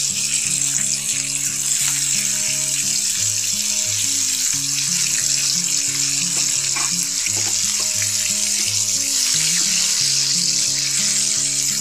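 Loud, continuous frying sizzle of chicken chaap pieces in a pan after they are flipped, with a constant dense crackle and a few light scraping knocks from a utensil, no voices.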